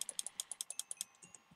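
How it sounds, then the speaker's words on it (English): Rapid computer mouse button clicks during a Minecraft survival game: about a dozen sharp, evenly spaced clicks in quick succession, close and fairly faint, with no talking. "I'm just rapidly clicking the button to kill this guy."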